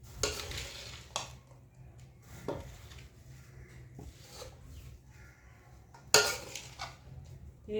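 Food is stirred and fried in a pan, with a low background sizzle and intermittent scraping and clinks of a utensil against the metal, including a sharp loud clatter near the end.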